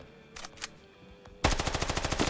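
Game gunfire suddenly opens up as a loud, rapid automatic burst of evenly spaced shots after a quiet start with a couple of faint taps.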